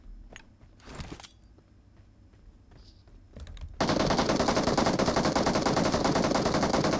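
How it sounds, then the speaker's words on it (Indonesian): Rapid automatic gunfire in the mobile battle royale game PUBG Mobile, bursting in loud and continuous after a few seconds of quieter game sounds and faint scattered shots. "Ada suara tembakan"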